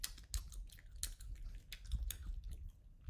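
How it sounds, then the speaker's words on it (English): Close-up gum chewing, wet smacking and clicking mouth sounds repeating in an irregular rhythm, quiet and intimate with no talk. "I'm just kind of sitting here enjoying my chewing gum."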